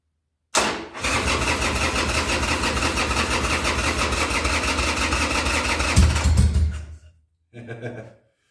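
A 2000 Harley-Davidson Sportster 1200C cranks over with the choke out, catches and runs loudly for several seconds, swells briefly, then cuts out; a short second burst of engine sound follows after a pause.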